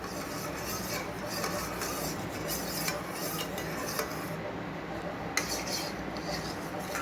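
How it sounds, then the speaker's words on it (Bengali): A spoon scrapes and clinks softly around a bowl while milk is stirred into yogurt for doi, a quiet steady rasp with a few sharper taps. "দুধটা দিয়ে দইটার সাথে ভালো করে মিশিয়ে দিতে হবে"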